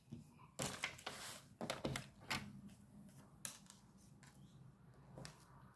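Scissors snip a paper card, trimming a millimetre or two from each side, in several sharp close cuts with short gaps between them, quiet and alone.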